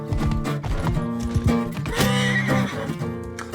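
A horse in the medieval combat game Bannerlord whinnies loudly and repeatedly over clip-clopping hooves at a gallop, close and prominent, with no talking.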